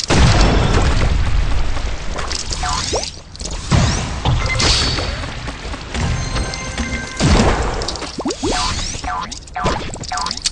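Repeated bomb blasts from the Bubble Fighter online shooter game, loud dense booms and pops over busy game effects and music, several bursts spread across the stretch.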